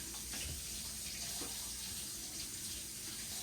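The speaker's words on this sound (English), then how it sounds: "Add your splash of soda" Steady fizzy pouring of soda water into a mojito glass over ice, a continuous bright hiss and splash from start to finish.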